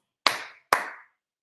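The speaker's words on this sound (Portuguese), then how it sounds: "Agora, bate 2 palmas." Two sharp, distinct hand claps ring out in a quiet room during a sales communication talk, spaced about half a second apart, each with a short reverberant tail.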